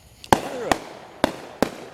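Four sharp Fourth of July firework explosions crack one after another at close range, each a loud bang followed by a brief ringing decay, with a faint crackle between them.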